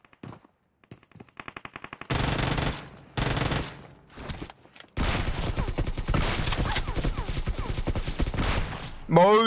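Rapid shotgun blasts from a DBS double-barrel in PUBG Mobile, fired in quick close-range bursts amid dense, continuous game gunfire and effects, loud and near.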